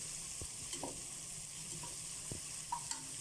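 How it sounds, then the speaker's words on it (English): Onions frying with whole garam masala for a chicken biryani, a quiet, even sizzle with a few light utensil clinks and scrapes, close by and with no talking. "Fry this onions till it is"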